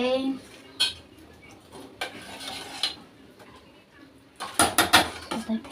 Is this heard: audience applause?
no